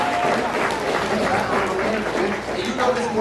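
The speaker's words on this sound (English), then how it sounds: "Clap up for him." Sustained applause from a comedy club crowd at a Tempe Improv show, steady and dense throughout with a voice speaking over it.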